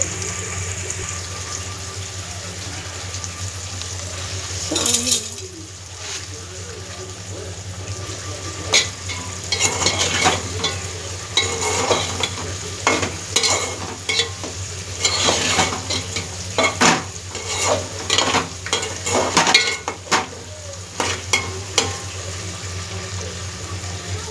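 Leafy greens curry of amaranth, spinach, dill and gongura leaves cooking in a pan, with a steady sizzle under repeated scraping, stirring strokes that grow busier toward the end.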